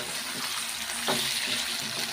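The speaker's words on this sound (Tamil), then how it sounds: "கத்திரிக்காயை போட்டு நல்லா வதக்கணும்" Eggplant sautéing in a pan for eggplant thokku, a steady soft sizzle and crackle with a brief louder stir partway through, close and continuous, no voices.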